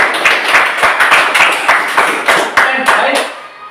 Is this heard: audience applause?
yes